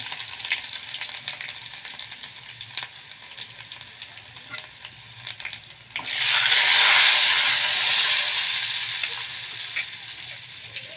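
Asafoetida dropped into hot oil with coarsely ground green chilli and crushed garlic while cooking aluchi bhaji, a quiet background hiss that bursts into a loud, bright sizzle halfway through before gradually settling.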